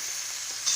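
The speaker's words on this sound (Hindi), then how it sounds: "अब मैं ये इसमें कीमा शामिल कर दूँगी।" Minced meat (keema) going into golden-brown frying onions, a close, steady hiss of sizzling that swells into a brighter burst at the very end of the short moment.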